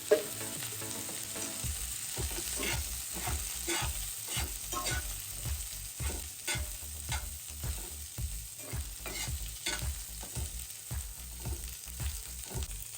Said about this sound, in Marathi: थोडंसं असं कांद्याला आपण तेल भाजून घ्यायचं